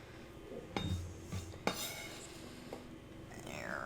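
Handfuls of lettuce dropped into small bowls during salad prep, giving a couple of brief clattery knocks of dish and utensil contact with soft rustling between, fairly quiet and close.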